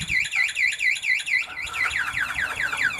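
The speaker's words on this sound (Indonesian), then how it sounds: "maka alarm akan berbunyi" A Vinyx anti-theft alarm on a Yamaha Mio GT motorcycle wails in rapid, repeating electronic sweeps, loud and close, the pattern shifting to a quicker chirping warble partway through.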